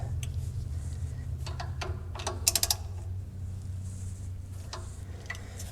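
Socket ratchet tightening nuts while reassembling a big V8 Onan 140 generator: a few quick clicking bursts of the pawl, a tight cluster near the middle, over a steady low hum in a workshop.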